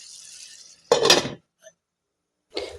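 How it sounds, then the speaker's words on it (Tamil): A metal lid lands on a pan of cabbage stir-fry with a sharp clattering clink, then a faint tap follows, and a second short scrape of metal is heard near the end. "மூடி போட்டு மூடி வச்சுக்கணும்"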